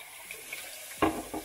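A tap runs into a sink in a close, fairly quiet indoor setting, with a soft splashing stream that is joined by a louder gush of water about a second in.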